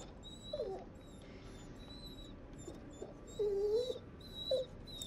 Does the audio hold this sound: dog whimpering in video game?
yes